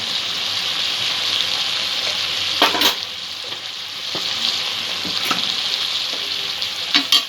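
Kankrol (spiny gourd) and potatoes sizzle loudly in a pan with turmeric, coriander, cumin and chilli powder. The frying hiss is steady, with occasional spoon scrapes and stirring clatter.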